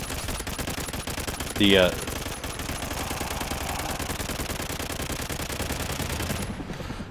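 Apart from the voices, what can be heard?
gunfire in the video game Call of Duty: Ghosts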